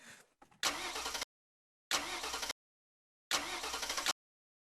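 A petrol car is cranked over three times, each a loud cranking burst of under a second separated by short silences, with faint fumbling sounds just before.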